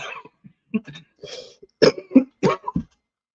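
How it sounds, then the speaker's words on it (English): A string of short, harsh coughs and throat-clearing bursts, close and fairly loud, coming in uneven clusters with brief pauses between them. "As you can see, I still got this cough."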